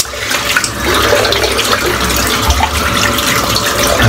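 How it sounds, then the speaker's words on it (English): Tap water runs steadily and loudly into a basin as soap is rinsed off a freshly shaved head, a continuous close splashing rush with small shifts in flow. "Gonna rinse off his soap."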